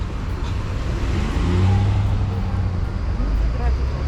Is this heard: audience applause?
no